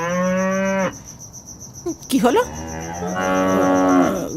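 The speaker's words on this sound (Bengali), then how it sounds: "গরুগুলো গরুগুলো এইভাবে চিৎকার করছে কেন?" Cartoon cows let out long, loud moos, one at the start and another toward the end, with insect-like chirring behind and a brief spoken question in between.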